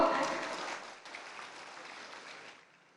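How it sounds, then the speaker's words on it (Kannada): Applause from a crowd, loud at first and then thinning into lighter, scattered clapping before fading out. "ಹೆಣ್ಮಕ್ಳಿಗೆ ಅದು ವಿಶೇಷವಾದ ಚಪ್ಪಾಳೆ ಬರಬೇಕು"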